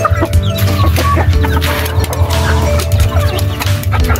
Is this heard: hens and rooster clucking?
yes